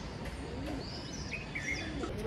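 Outdoors after heavy rain, racing pigeons wait at a loft before being released for a race. Faint, soft cooing mixes with thin bird calls and chirps against a quiet background.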